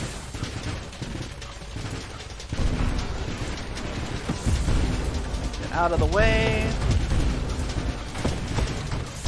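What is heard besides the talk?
explosions from dropped mines in Nova Drift video game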